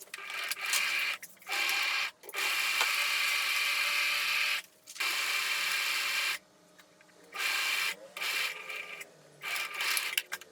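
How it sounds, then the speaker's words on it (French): A sewing machine stitches the back and front of a gathered skirt together along the side seams, running close and loud in several long bursts broken by short pauses. "Je vais coudre le dos et le devant de la jupe ensemble sur les côtés"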